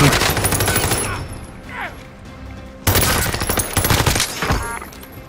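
Gunfire in Call of Duty Warzone Rebirth Resurgence quads, loud sustained bursts of automatic fire in two long volleys split by a brief lull with a distant shot or two.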